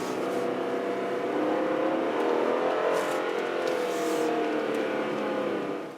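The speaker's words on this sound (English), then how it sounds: "it's got a surprisingly raspy engine tone too" An Infiniti QX50 SUV engine runs steadily with a raspy, buzzing tone, revving gently under acceleration for several seconds, close and fairly loud.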